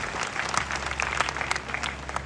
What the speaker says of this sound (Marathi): यांच्यासाठी जोरदार टाळ्या झाल्या पाहिजे